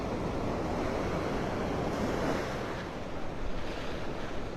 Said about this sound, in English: These are big waves.